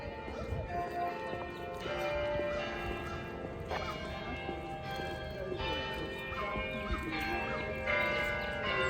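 Bells at Longwood Gardens in Kennett Square, Pennsylvania, ring continuously from a distance, a dense layer of overlapping tones with repeated strikes that carry across the park grounds, with a person's voice faintly present.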